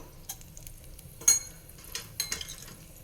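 Mustard seeds hitting hot oil in a kadai give a few faint, scattered crackles and pops over a quiet background.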